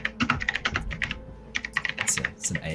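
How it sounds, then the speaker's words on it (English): Rapid keystrokes clatter on a computer keyboard in quick, uneven bursts with brief pauses between runs, close and crisp, with no voices over them. "It's an ASMR keyboard clapping."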